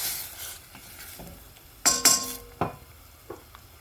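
Sardines and tomato cooking in a pan are stirred with a utensil, producing a few soft scrapes and clinks against the pan over a faint sizzle, close and without talking.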